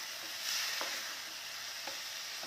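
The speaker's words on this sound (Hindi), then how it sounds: "इहनू फिर असी हुण फ्राई करांगे 1-2 मिनट" Chicken frying in a pan makes a steady, soft hiss with a few faint stirring clicks, close but quiet, with no voices.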